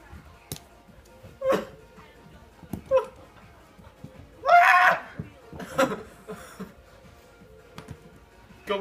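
A dog makes brief whimpering, yelping sounds at scattered moments, the loudest burst near the middle, with laughter and playful voices around it during an indoor racing game.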